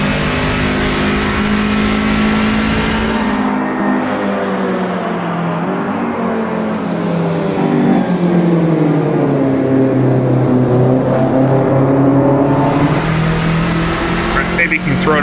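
Race car engine in the sim racing game Automobilista 2, revving hard and shifting through gears, pitch dropping and climbing again, loud and continuous throughout.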